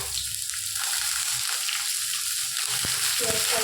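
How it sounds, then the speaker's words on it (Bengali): Chopped onion fries in a pan of oil with a loud, steady sizzle and a few stirring clatters, close up and without speech. "পেঁয়াজটা লাল লাল করে ভেজে নেবো"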